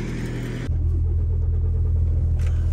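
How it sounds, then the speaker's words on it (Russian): A car leaves a paid parking lot, its engine a steady close rumble that steps up in level as it pulls away and then holds an even drone, with no talking. "Уезжаем с парковки."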